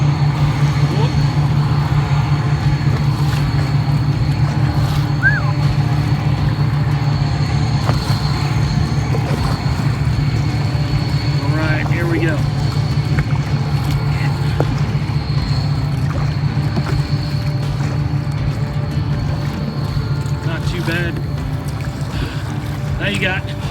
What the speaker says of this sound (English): now you got waves coming from the boat, and you got waves bouncing off the shore